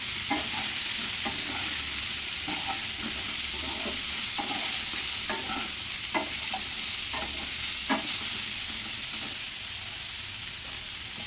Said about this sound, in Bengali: এবার এটাকে ভালো করে সিদ্ধ হওয়ার মতন করে ভেজে নেব মোটামুটি ফিফটি পার্সেন্ট যাতে সিদ্ধ হয়ে যায়